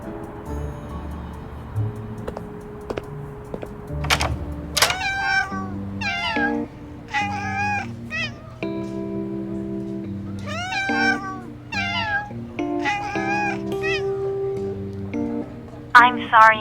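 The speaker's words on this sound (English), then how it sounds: "The lights in the cafe were still on after midnight, and the constant meowing creeped me out." Several cats meow repeatedly in a video-game cat cafe, clear close mews in bursts over soft background music, with a few sharp clicks.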